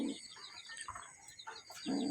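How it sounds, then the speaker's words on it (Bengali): Farm pigeons, including a red Siraji and a Bangla pigeon, give soft low coos at the start and again near the end. Faint chirps sit between them in a quiet coop. "তো কবুতরগুলো দেখেন,"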